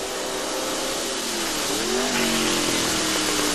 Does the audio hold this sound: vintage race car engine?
yes